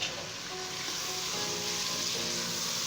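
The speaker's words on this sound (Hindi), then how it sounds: "अब इसको फ्राई करेंगे।" Marinated chicken sizzles and fries with onion in a pan for Bombay biryani, a steady close crackling hiss with no talk.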